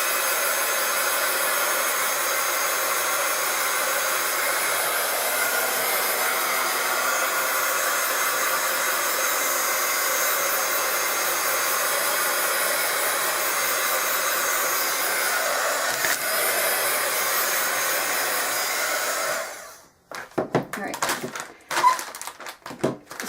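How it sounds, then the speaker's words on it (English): A heat gun blows hot air as a steady, loud, close whooshing roar lasting about twenty seconds, then cuts off into scattered handling clicks and taps. "I'm going to hit this real quick with my heat gun, so bear with me on the noise"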